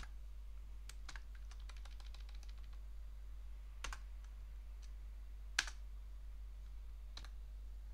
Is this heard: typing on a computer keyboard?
yes